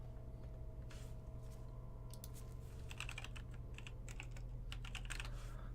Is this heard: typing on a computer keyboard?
yes